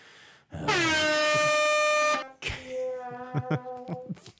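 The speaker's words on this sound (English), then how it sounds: "Sad air horn" A loud, sustained air horn blast followed by a drooping, stuttering sequence of shorter honks, like a deflated comedic horn.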